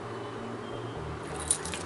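A bunch of keys carrying several keychain charms jangles softly, a low, continuous metallic rattle with one brighter clink near the end, with no speech.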